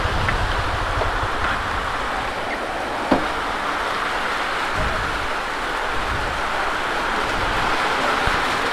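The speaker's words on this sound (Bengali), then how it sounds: "বৃষ্টি তো জোরে আসতেছে" Heavy rain pours down in a steady, dense hiss that fills the whole stretch, with one sharp knock partway through and no voices.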